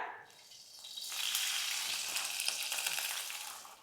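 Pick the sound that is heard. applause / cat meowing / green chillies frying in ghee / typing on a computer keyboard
green chillies frying in ghee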